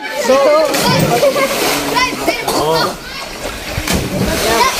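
Someone jumps into a river near a waterfall, sending up loud, sloshing splashes amid the churn of water while children shout and talk excitedly throughout.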